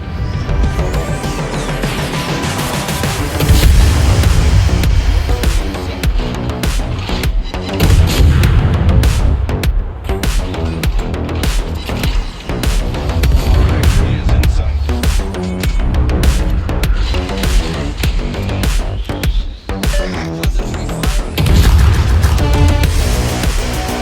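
Guns of the German destroyer KMS Z-23 firing in a naval battle game, loud repeated booming salvos over a continuous rumbling battle soundscape with dense layered blasts for the whole stretch.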